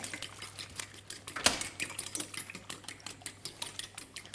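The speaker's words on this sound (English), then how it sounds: "I'll just give those eggs a bit of a whisk" Eggs are whisked in a bowl with a quick, steady rhythm of light metallic clicks and taps, close and continuous, with one sharper knock partway through.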